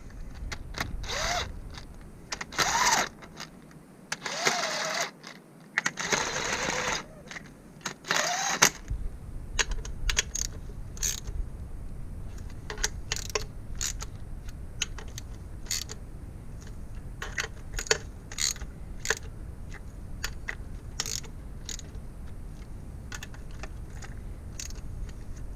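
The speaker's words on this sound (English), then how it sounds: "Now tighten the Plenum main bolts in a star pattern." A ratchet clicks in quick repeated runs tightening plenum bolts on a 3000GT Stealth engine, close and crisp, with creaks and pauses between bolts over a longer stretch.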